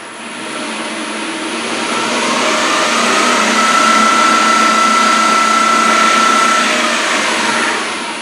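LT77 five-speed gearbox running at full speed on a test rig, a loud, steady whine and rushing roar that swells up and holds, with a thin sustained tone riding on top.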